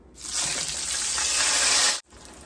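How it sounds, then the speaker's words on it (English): Sauce is poured into the same pot used for frying chiles rellenos, making a steady, close gushing liquid stream that lasts about two seconds and then stops abruptly. "using the same pot we fried the chiles rellenos in, the hubby's gonna pour in the sauce"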